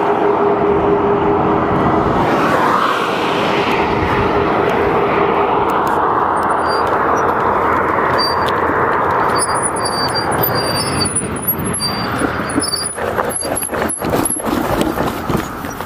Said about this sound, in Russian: Целый день вот этот шум трассы.